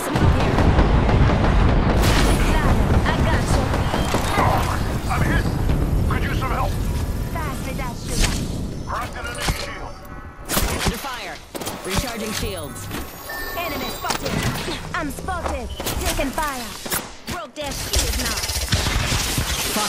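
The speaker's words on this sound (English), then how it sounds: "Calling the airstrike." Video game airstrike, heavy booming explosions and blasts mixed with rapid gunfire, loud and dense throughout, with a voice speaking over the combat.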